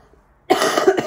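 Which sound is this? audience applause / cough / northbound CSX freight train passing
cough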